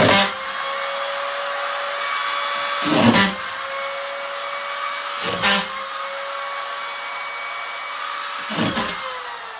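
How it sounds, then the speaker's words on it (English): A DeWalt screw gun drives screws into drywall panels during a bathroom install, its steady high motor whine running throughout and broken by three loud, brief bursts as screws bite in, close by with no talk. "I love these DeWalt screw guns."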